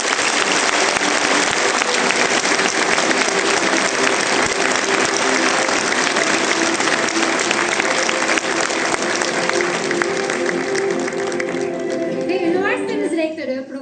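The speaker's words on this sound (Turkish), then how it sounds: "Kuvvetli bir alkış rica ediyorum" Loud, sustained applause from an audience at a university rectorate handover ceremony, dense clapping running steadily for over twelve seconds before tapering off, with faint voices underneath.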